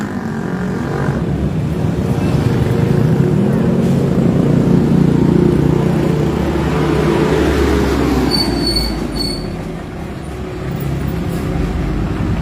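A truck and traffic pass on a road during a provincial cycling race selection, a loud, close, continuous rumble with squealing that swells and then fades toward the end.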